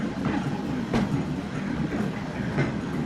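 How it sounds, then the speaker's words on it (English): Trams or trolley cars run in the Transport Fever video game, a continuous rolling rumble with faint rhythmic wheel clatter at moderate loudness, with no one talking over it. "Let's see the trams come out to play."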